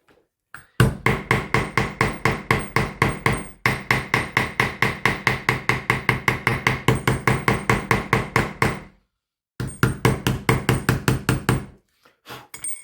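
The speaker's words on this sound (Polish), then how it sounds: "wezmę sobie zwykły stalowy młotek." An ordinary steel hammer strikes over and over in a fast, steady rhythm, loud and close, while a knife handle is being shaped. The strikes pause briefly twice, then resume, and no one talks.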